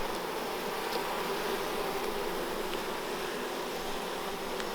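Many honeybees hum steadily around an opened backyard hive, an even, continuous buzz with a few individual bees passing close by.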